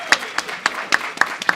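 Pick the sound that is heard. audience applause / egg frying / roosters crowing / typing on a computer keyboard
audience applause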